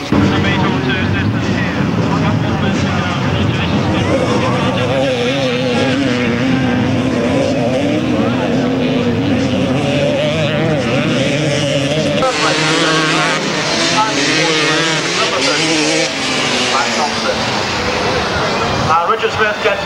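Grasstrack racing motorcycles from 1997 roaring round a bend side by side, loud continuous engine blare that shifts as they pass, with a commentator talking excitedly over it.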